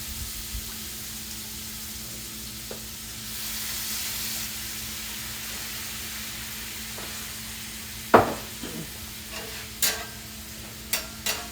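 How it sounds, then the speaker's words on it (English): Red cooking wine and Worcestershire sauce deglazing a hot pan for beef stroganoff give a soft, steady sizzle and hiss. Faint and close, with a few sharp clinks of a utensil near the end. "Let that kind of deglaze your pan a little bit there."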